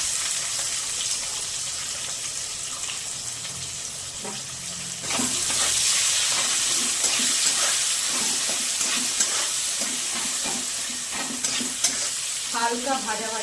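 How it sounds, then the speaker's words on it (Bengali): Two medium onions, finely chopped, hit hot oil in a pan after whole cardamom and cinnamon, bursting into a loud sizzle that settles into steady frying with occasional stirring scrapes. "এবার 2টো মিডিয়াম সাইজের কুচিয়ে রাখা পেঁয়াজ দিয়ে দেবো।"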